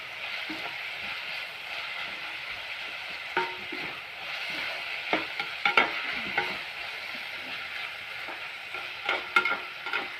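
Tomatoes sautéing in oil for egg thokku, a steady close sizzle with intermittent scraping and clacks of stirring that cluster midway and near the end.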